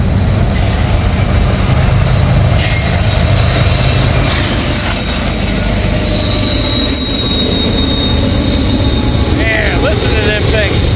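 A long freight train with double distributed power units rolls past close by, a loud continuous rumble of wheels with squealing, clattering cars and a voice talking over it.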